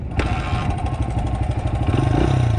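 A Honda CRF 100 dirt bike engine idles and revs steadily up close, a loud continuous putter with a rising throttle blip near the end, no talking.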